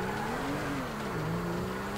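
In GTA V, the damaged engine of a car keeps running, making a continuous rough drone whose pitch wavers slightly up and down, close and steady, with no voices.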